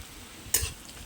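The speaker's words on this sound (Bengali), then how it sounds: "পেঁয়াজটা হালকা করে লাল লাল করে ভেজে নেব" Onion fries in a pan with a faint steady sizzle, broken by one quick, close scrape of a spatula stirring it.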